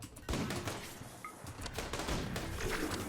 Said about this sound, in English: Oh, gunshot heavy SMG.